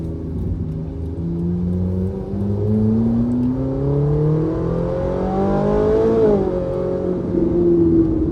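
A Ferrari 458 Italia engine revs hard, pitch climbing through gears, then drops with sharp downshift blips; loud and close, no talking.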